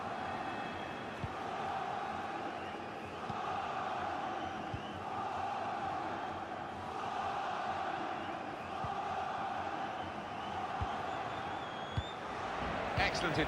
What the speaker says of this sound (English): here we go, Mexican wave. Crowd trying to entertain themselves